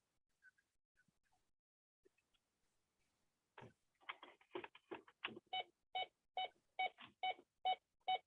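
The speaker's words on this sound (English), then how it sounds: "Yeah, it's my backup alarm." A car's backup alarm sounds faintly at a distance, first as scattered clicks and clatter, then as a steady run of evenly spaced, repeating beeps.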